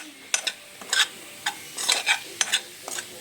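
A spoon stirs masala mushrooms roasting in gravy in a pan, making repeated close scraping and clinking strokes in an uneven rhythm over a soft sizzle.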